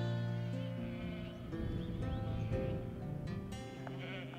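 Sheep bleat close by on a Welsh sheep farm with a flock of about 1,200, several overlapping wavering calls from multiple animals in quick succession.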